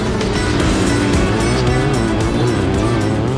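Motocross dirt bikes, among them Bradshaw's Big Red and twin-cylinder and CR500 two-stroke machines, blast out of the starting gate at a race, a loud, dense, continuous engine roar with rising revs and no talk over it.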